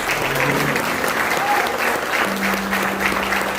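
A church congregation applauds steadily at a worship service, dense continuous clapping filling the room at a fairly loud level, with faint organ-like tones and murmuring voices mixed underneath.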